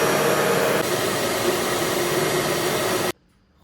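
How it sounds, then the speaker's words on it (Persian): A rented dm carpet and upholstery washing machine shaped like a vacuum cleaner runs with a loud, steady whirring roar, then cuts off abruptly near the end. "همونطور که میبینید به شکل جارو برقی میمونه و من قراره که این فرش رو باهاش بشورم"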